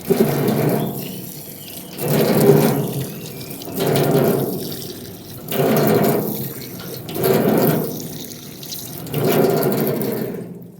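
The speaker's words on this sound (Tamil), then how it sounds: "தண்ணி அப்படியே ஜில்லுன்னு வருதுங்க" Cold drinking water runs from a tap in loud, close surges. About six bursts swell and fade roughly every two seconds with brief lulls between them, and no one speaks.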